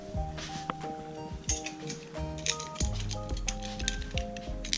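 Scissors cut muslin cloth nearby in a quick series of crisp snips and rustles, with soft fabric handling noises between the cuts.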